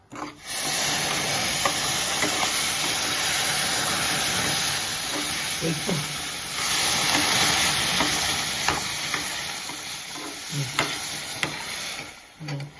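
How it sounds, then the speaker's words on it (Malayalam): Semolina roasted and stirred slowly in melted ghee in a pan, a continuous hissing sizzle with occasional scraping strokes, close, with faint speech now and then. "നിർത്താണ്ട് മിക്സ് ചെയ്യണം. സ്ലോ ആയിട്ട് വേണം ഇങ്ങനെ മിക്സ് ആക്കിയാൽ."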